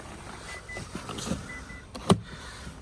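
Power windows on a Renault Koleos, a used car with keyless entry and climate control, whir up and down in several short motor runs inside the cabin, ending in a sharper thunk near the end.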